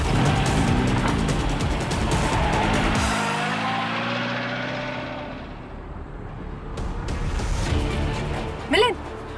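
A car being driven, its low engine rumble running steadily beneath people talking throughout, with a brief higher whine near the end.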